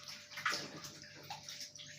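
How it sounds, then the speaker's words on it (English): Hands being washed under a running kitchen tap, a steady close rush of water with splashing and gurgling for two seconds, no talk. "So just quickly wash my hands."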